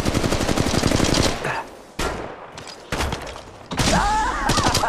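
Gunfire in the mobile battle game Apex Legends Mobile, loud rapid bursts of automatic fire broken by short pauses, with sharp impacts and a metallic ringing sweep near the end, close and dense, with no talking.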